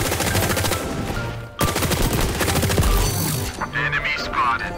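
Rapid automatic P90 submachine gun fire in the shooter game XDefiant, loud and close, with dense continuous bursts, one short break near the middle, and faint game sounds layered over the shooting.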